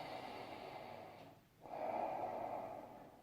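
Slow, deliberate breathing for calming: a long, soft airy exhale, a brief pause, then a fuller, steady breath, close and quiet with no talking.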